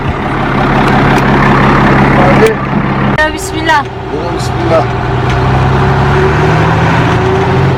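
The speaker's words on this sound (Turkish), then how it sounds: "arabamız bayağı uzun zamandır yatıyordu. O yüzden şimdi bir çalıştırdık." A camper van's engine, left unused for a long time, idles loudly and steadily with a deep rumble throughout, while people speak briefly over it.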